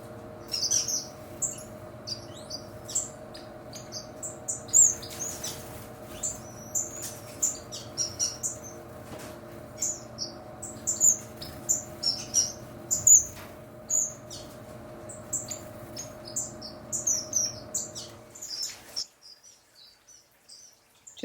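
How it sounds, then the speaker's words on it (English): Waxbills chirp and tweet steadily in an aviary while playing in water, with many quick high calls overlapping over a low background hum, ending in a brief quieter stretch. "Just gratuitous footage of these sweet waxbills playing in the water."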